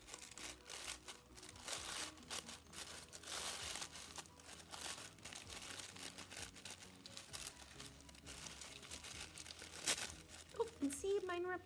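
Tissue paper for craft flowers is crumpled and handled up close, making steady crinkling and rustling with a slight tearing edge, and a person talks at times.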